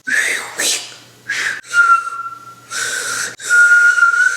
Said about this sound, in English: I could only make whistling sounds when I'm breathing in